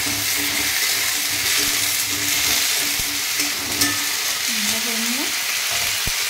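Vegetables with black mustard seeds frying in a pan, a continuous loud sizzle under the scrape of a spoon being stirred through, with a few clinks and no talking.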